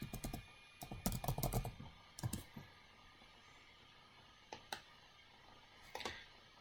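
Typing on a computer keyboard while renaming a spreadsheet: a quick cluster of key clicks early on, then a few isolated taps after pauses, all fairly quiet against a faint background hum, with no talk.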